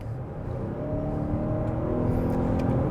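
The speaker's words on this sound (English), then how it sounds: "if I kick it over to the hybrid engine and I actually get into the gas engine part of it" Lexus TX 550h+ plug-in hybrid SUV accelerating with its gas engine running, a steady, fairly loud low engine drone and road hum that builds slightly and holds for a few seconds with no talking.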